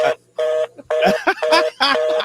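A phone ringtone blares during a live sports-talk radio show previewing a Kings versus Spurs game, playing a loud repeating electronic chime in several quick bursts with short gaps, close and clear.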